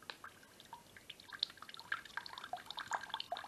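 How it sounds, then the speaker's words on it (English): Water drips steadily under gravity alone through a Sawyer Mini water filter from a plastic bag, each small drop landing close by in an irregular run with no talking. "this is me not squeezing, this is just gravity letting the water go through"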